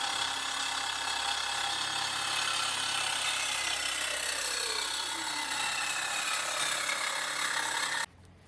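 A saw cuts through the end of an intercooler pipe during a 1JZ-swapped 240SX intercooler install, a steady close rasping drone held for about eight seconds before stopping abruptly.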